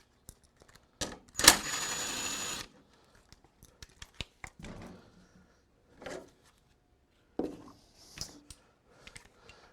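Screws come out of a cowl: scattered clicks and light metallic ticks, a loud burst of scraping or buzzing early on, then intermittent clacks and handling noise, close and fairly quiet between sounds.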